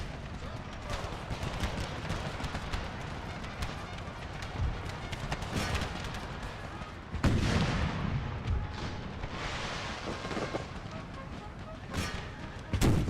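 Volleys of musket and artillery fire ring out at charging cavalry in an Empire: Total War Civil War battle mod, a steady rumble of distant shots with louder bursts near the end, under a voice calling orders.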